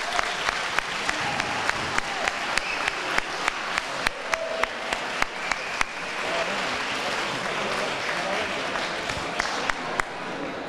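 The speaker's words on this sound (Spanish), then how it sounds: "Un aplauso fuerte." An audience at a gastronomy route awards ceremony in Tarifa applauds loudly, sustained crowd clapping with sharp individual claps standing out, filling the whole stretch alone.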